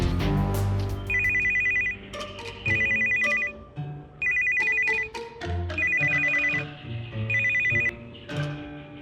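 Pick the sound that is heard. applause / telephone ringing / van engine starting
telephone ringing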